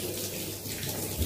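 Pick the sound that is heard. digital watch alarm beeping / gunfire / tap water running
tap water running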